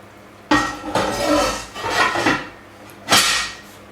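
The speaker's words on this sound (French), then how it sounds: "On remet le couvercle." A lid goes back on a cocotte holding a rouelle of pork, with a sharp metallic clank followed by scraping and rattling, then another clunk as it settles.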